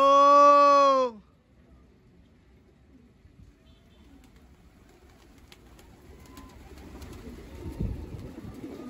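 A single loud, throaty coo from a pigeon, about a second long, followed by quiet background noise that slowly builds.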